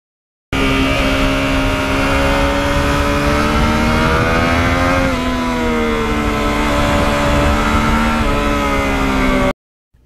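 Yamaha MT09 motorcycle engine on a twisty back road, a loud continuous close drone that rises and dips in pitch as the revs change, heard alone.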